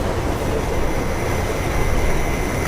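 A train in the video game Mirror's Edge rumbles past with a steady, dense roar and low mechanical clatter, loud and continuous throughout with no voices.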